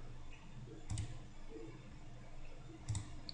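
A computer mouse clicks twice, about two seconds apart, each a faint, sharp tick over a quiet room hum during a file transfer on a desktop.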